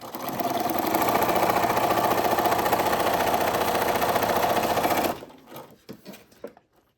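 A sewing machine stitches through paper in a steady, close, even whir for about five seconds, then stops, leaving a few faint clicks and handling sounds.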